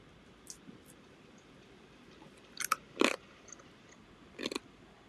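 Loud, crunchy chewing of crisp food close up, a few separate bursts of biting and crunching spread across a quiet background with no talking.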